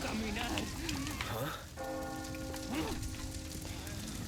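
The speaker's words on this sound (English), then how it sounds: "the bell is ringing." A church bell tolls in Resident Evil 4 over a rainy game soundscape, a sustained resonant ring entering midway with its overtones lingering, while someone talks quietly in the background.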